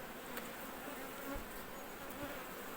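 Honey bees hum steadily around an open, propolis-coated beehive during an inspection, a continuous faint drone with an occasional bee passing close.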